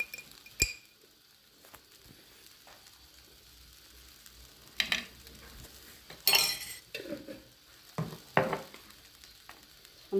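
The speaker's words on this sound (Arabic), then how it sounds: "نخلطوا هاد الشرموله نخلطوها مزيان" A spoon mixes chermoula, a Moroccan spice marinade with red pepper, in a bowl, giving scattered clinks and scraping bursts against a quiet background, close and intermittent with no voices.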